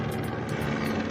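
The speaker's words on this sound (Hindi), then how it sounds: "ये देखिए एक और हेलीकॉप्टर आया" A helicopter thrums steadily nearby on the Kedarnath trek, its rotor beating in a fast, even pulse with a low engine rumble underneath.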